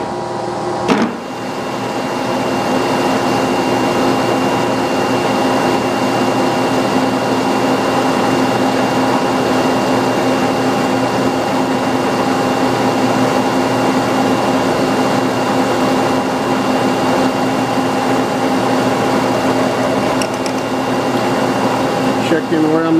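A machine tool runs steadily at 500 RPM during a vise repair job, a continuous even mechanical hum and whine with a steady drone, starting just after a brief click, with occasional low talking.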